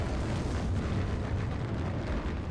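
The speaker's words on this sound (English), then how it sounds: "Ammunition's on fire. All the MG42 cartridges in there now. Just gonna start popping." Dense, continuous low rumbling with crackling pops and bursts in a video game, as MG42 ammunition cooks off amid heavy explosions, loud and sustained throughout.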